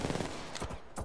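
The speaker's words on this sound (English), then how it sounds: "Hey, stop shooting at me, bro." Gunfire in the shooter game Apex Legends: a dense, loud stretch of rapid game-weapon shots with a few sharper cracks toward the end, lasting about a second.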